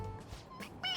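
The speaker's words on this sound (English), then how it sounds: "It meows when you press on its head." A toy cat lets out a short electronic meow when its head is pressed, a brief, close, harmonic cry that rises in the final moments.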